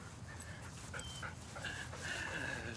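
Fluffy poodle wearing a dog vest pants steadily and fairly quietly at close range, with a few faint whimpery tones mixed in and no talking.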